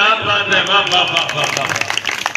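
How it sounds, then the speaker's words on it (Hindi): Audience clapping at a Hindi poetry gathering, a brief, loud burst of applause mixed with crowd voices and a sustained tonal sound underneath. "तालियां बड़ी करना।"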